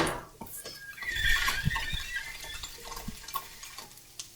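Tofu scramble is flipped and pressed down in a skillet, a soft frying hiss under scraping and clinking of a utensil against the pan, with a few dull taps, close and without talk.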